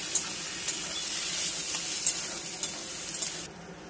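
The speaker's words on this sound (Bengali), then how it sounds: "এবার আমি এটাকে ভালো করে মিশিয়ে নেব" Mashed cabbage and chili being stirred in a frying pan, with a loud, continuous sizzle and faint scraping strokes that cut out sharply near the end.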